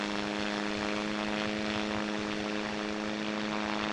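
A propeller plane's engine drones in a QWOP-style flight game, a loud, steady, harmonic buzz that holds continuously with no voices over it.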